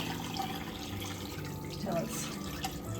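Chicken juice poured into a stock pot holding skin, bones and chicken, a steady close liquid pour with splashing and trickling that runs without pause.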